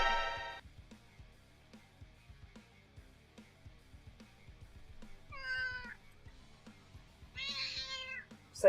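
A cat meows twice in clear, drawn-out calls, with a third brief cry at the very end, over quiet intermittent clicking and soft background noise.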